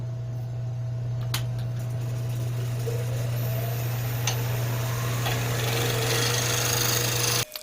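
A wood lathe spins a wooden sphere while a skew chisel used as a scraper smooths away bumps and high spots, giving a steady low motor hum with a light scraping hiss and a few sharp ticks.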